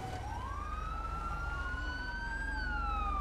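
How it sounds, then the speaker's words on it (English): Police sirens wail steadily throughout, rising and falling tones over a low engine rumble, moderately distant with no voices. "I hear hella sirens right now."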